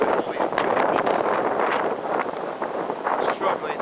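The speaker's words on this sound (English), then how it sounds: "Cold and windy" Strong gusts buffet the microphone outdoors at the ruins of Croxden Abbey on a cold, very windy day, a constant roaring rumble with people talking underneath.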